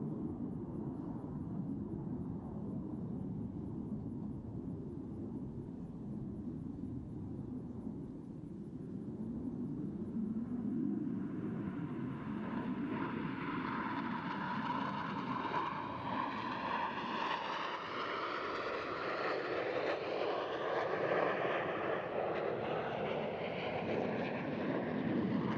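Blue Angels jets flying the Diamond roll at 400 mph at the NAS Oceana Air Show: a distant roar that swells sharply midway into a loud, rushing jet sweep with wind buffeting the microphone.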